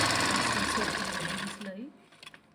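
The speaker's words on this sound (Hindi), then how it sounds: "तो इस तरह मैं इसके ऊपर सिलाई लगाऊंगी" Sewing machine stitching down a folded neckline band, giving a close, continuous rapid mechanical whir that slows and stops partway through, followed by a few faint handling clicks, with a voice speaking over it.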